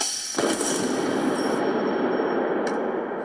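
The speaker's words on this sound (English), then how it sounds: "Okay, the bank is charged and ready to fire." A homemade high-voltage lightning gun fires, discharging a charged capacitor bank at about 150,000 volts. A sharp crack at the start gives way to a loud, sustained hissing roar, and a second brief snap follows near the end.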